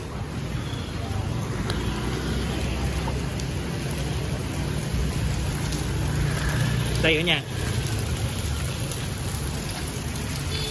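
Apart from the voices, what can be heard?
heavy rain falling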